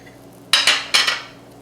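A knife cutting through crispy fried polenta still hot from the pan makes two quick crunchy crackles, close and fairly loud, with no talking.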